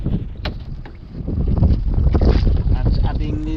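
Strong wind gusts roar steadily across the open sea around a small boat, with low rumbling buffeting and some water wash. The noise grows heavier midway and stays loud throughout.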